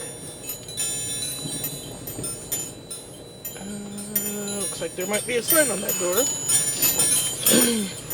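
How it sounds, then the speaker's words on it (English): Metallic chimes tinkle and ring on and off while someone talks over a low engine hum inside a moving car. "I'm really sorry about the wind chimes."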